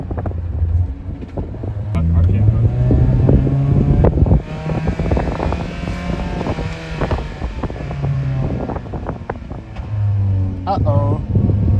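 A car engine running on Dr Pepper and barbecue sauce is floored from a standstill, a loud, steady roar that holds near 3,500 RPM with wind buffeting the microphone while people talk over it throughout.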